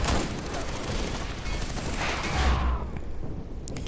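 Gunfire from a trick shot in the video game Far Cry 4: a dense, continuous burst of shots and blasts that stays loud for most of the stretch, then cuts off, leaving quieter game ambience.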